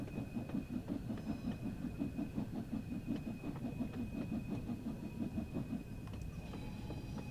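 Simulated steam locomotive running on the West Cornwall line in Train Sim World 3, a steady rhythmic chuff and rolling rumble of wheels on track, continuous and fairly loud with no talking.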